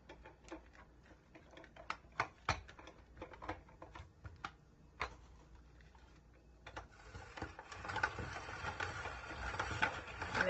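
A hand-cranked spiralizer cuts through sweet potato, giving quiet irregular ratcheting clicks that build into a denser, louder grinding crunch toward the end.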